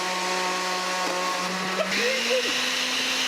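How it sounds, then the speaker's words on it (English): A blender motor runs steadily with a harsh buzzing drone whose pitch shifts and wavers partway through, close and loud, with no speech over it. "That's the shittiest blender ever."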